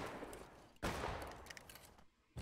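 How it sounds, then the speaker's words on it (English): Musket volleys crack in the Civil War shooter War of Rights, several overlapping shots bursting in quick succession with a sharp loud blast near the start and another at the end, set against distant battlefield din. "Keep firing east-northeast, boys."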